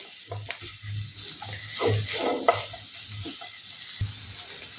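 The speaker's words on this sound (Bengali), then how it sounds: "প্রায় এক মিনিট সময় নিয়ে একটু নেড়ে চেড়ে রান্না করে নেব" Potatoes tossed with half a spoon of Maggi masala in a pan, soft stirring scrapes and a low sizzle, fairly quiet and close, no talking.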